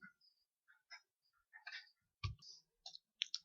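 Sharp computer mouse clicks, several brief separate taps over a few seconds at close range, made while running an Epson L380 printer resetter program on a PC; no speech.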